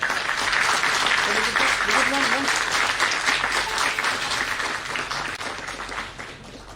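Loud, dense applause from an audience for a keynote speaker at a college induction programme, sustained for several seconds before gradually tapering off, with a few voices briefly audible within it.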